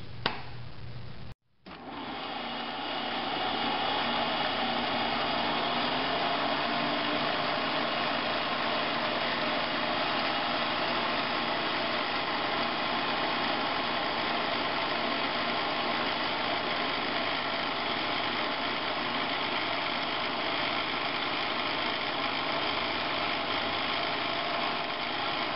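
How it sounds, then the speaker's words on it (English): A milling machine in need of a rebuild drills through metal with a number 38 bit at about 2000 RPM, a loud, steady mechanical whine and rattle that runs unbroken after a brief start, with no talking. "Sorry for the noise. My mill needs a rebuild."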